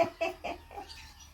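A small bantam chicken clucks in a quick series of four or five short, close clucks.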